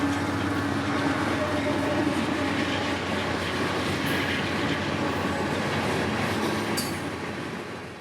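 A CSX freight train with a normal consist rolls by on the Brooksville Sub near Morgan Road and Land O'Lakes, a loud, steady rumble of wagons passing close, with a faint wheel squeal near the end.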